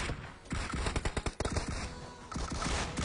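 Rapid shotgun blasts from the DBS shotgun in the video game PUBG Mobile, a quick volley of sharp, loud shots in bursts with brief gaps, close and punchy.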